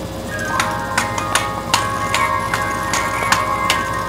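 A wind-up mechanism on the back of a doll whose head is meant to spin while it plays a song, now malfunctioning, gives a steady tinny whirring tone broken by regular sharp ticks, close and fairly loud.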